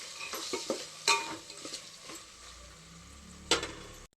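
Soaked peas go into hot oil in a home kitchen pot and are stirred, giving a soft sizzle with a few scraping spoon strokes and clinks, close and fairly quiet, with no talking.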